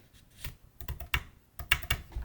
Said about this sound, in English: So we're going to use my paper trimmer.